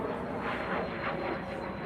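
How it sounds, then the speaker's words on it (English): A jet aircraft passes overhead at a classic car show in Woodley Park, California, making a steady, fairly loud rushing roar that lasts throughout without any talking. "sorry for the loud jet noise."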